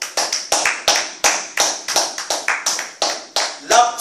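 A church congregation claps in praise of Jesus, a steady run of sharp, close handclaps in an even rhythm of about three per second that continues without a break.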